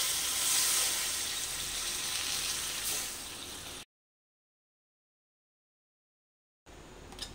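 Water poured into pineapple chutney in a hot pan, a steady hissing sizzle for a few seconds, then silence, then the sizzle briefly returns.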